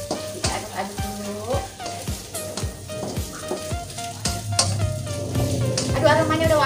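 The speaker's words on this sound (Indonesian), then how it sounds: "Kita aduk dulu ya. Kita aduk-aduk dulu." Chicken liver and gizzard with green chilies sizzle in a pan while being stirred, with scraping strokes over a steady fry and pitched, music-like tones running underneath.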